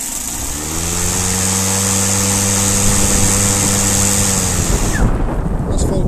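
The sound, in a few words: Husqvarna LC551iv battery lawn mower motor running at full power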